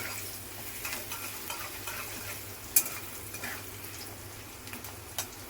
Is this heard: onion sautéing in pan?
yes